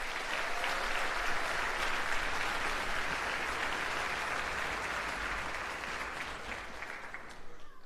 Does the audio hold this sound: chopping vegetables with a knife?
no